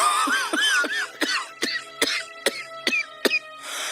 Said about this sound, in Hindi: आप सारी रात खांसते रहते हो।